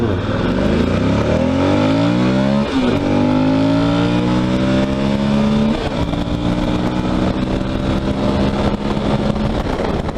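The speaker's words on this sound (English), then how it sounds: "we'll do an acceleration test here. First gear, idle along" A Suzuki V-Strom motorcycle accelerates hard in first gear, its engine note climbing steeply, dropping at a shift, then rising again, loud and close with steady wind and road noise and no talk.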